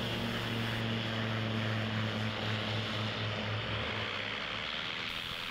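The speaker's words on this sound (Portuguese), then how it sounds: "o TL-3000 Sirius, o último modelo importado para Portugal" A TL-3000 Sirius ultralight propeller airplane droning loudly and steadily, its engine hum holding an even tone before thinning out near the end.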